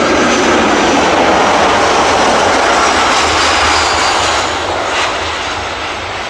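A steady, loud airplane engine drone on a toy aircraft, continuous and close, fading slightly near the end, with no talk over it.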